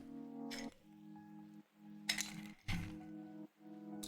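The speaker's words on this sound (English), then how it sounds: "We'll go ahead and add a little bit of ice to our glass." Ice cubes clink against a whiskey glass while pouring Ranger Creek Rimfire mesquite-smoked Texas single malt, a few sharp glassy knocks spread over several seconds above a steady low hum.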